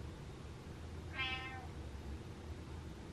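One short meow from a nearby cat stands out over a low, steady background hum, with nothing else around it.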